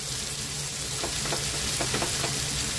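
Bitter gourd curry with turmeric cooks uncovered in a pan, giving a steady close sizzle and frying hiss throughout, with a few soft stirring scrapes partway through and no voices.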